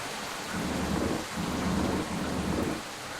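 Steady rain falls with repeated low rumbles of thunder rolling in waves, loud and continuous with no voices, inside the Sakura School Simulator video game.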